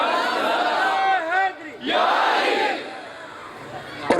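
At a Milad un-Nabi religious gathering, a large crowd roars loud unison shouts in two bursts, the second swelling and then fading before a short, sharp call at the end.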